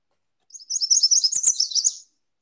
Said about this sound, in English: The yellow warbler.